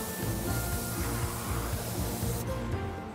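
A continuous close spray hiss of black paint being applied to a stamped aluminium number plate with embossed letters, steady and loud for a few seconds before cutting off near the end.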